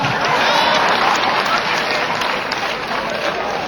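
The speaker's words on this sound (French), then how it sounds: "applaudissez madame" Sustained applause from a large audience at an official launch ceremony in Abidjan, steady and dense throughout with a faint voice underneath.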